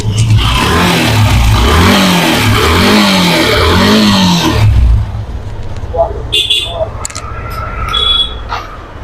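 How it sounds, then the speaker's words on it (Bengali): A Yamaha V2 motorcycle engine with 64,740 km, running after an engine repair, revs up with a loud, rough rising roar for several seconds, then drops to a quieter idle with scattered higher mechanical whines. "এই বাইকটা আপনাদের ইঞ্জিনের সাউন্ডটা যদি একটু দেখাই"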